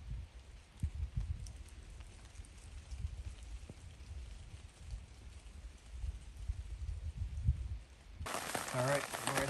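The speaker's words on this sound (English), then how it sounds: "Right before the rain started, there's some thunder in the distance" Steady rain falls at a lakeside backpacking campsite on Isle Royale, a low, continuous wash that swells louder toward the end, with a few faint low rumbles mixed in.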